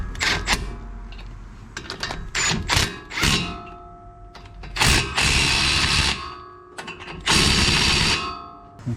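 A ratchet tightening lug nuts on the front wheel of a 2021 Ford Ranger 4x4 during a brake job, with bursts of quick clicking separated by pauses and handling noises.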